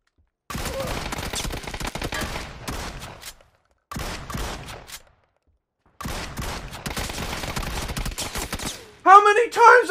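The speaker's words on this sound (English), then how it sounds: "How many times I gotta shoot this guy?" Rapid bursts of gunfire in the video game PUBG, three dense volleys of sharp repeated shots separated by silent gaps, ending in a brief burst of high chirping game sound.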